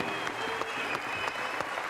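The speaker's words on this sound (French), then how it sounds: "applaudissements pour Johanna, s'il vous plaît" A French TV studio audience applauds a guest, Johanna, with steady dense clapping filling the room, loud and sustained, with a few louder claps standing out.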